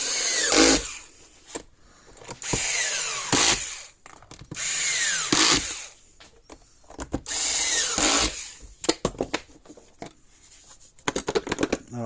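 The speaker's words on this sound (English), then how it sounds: "need my drill, my screw gun, electric screw gun" An electric screw gun drives screws into board during the repair of a Patriot PMX350 fence energizer, with several loud whirring bursts rising in pitch, separated by clicks, handling and shuffling noises close by.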